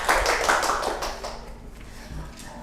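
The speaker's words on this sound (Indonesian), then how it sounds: "Oke, tepuk tangan semuanya." Students in a microteaching classroom clap their hands together, a short burst of dense, fairly loud clapping that thins out and fades after about a second, leaving scattered quieter claps and room noise.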